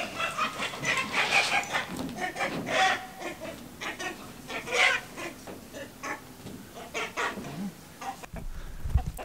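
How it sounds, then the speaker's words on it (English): A rooster clucks and calls near an Australian homestead chicken pen, giving a series of irregular clucks and squawks at moderate distance with outdoor background noise. "The rooster just jumped out of the chook pen."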